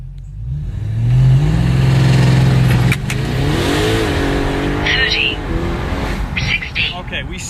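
An Audi RS7 fitted with downpipes launches from a standstill to 60, its engine roaring up through the revs with a gearshift break, tire spin and a deep exhaust note, while people talk and exclaim over it.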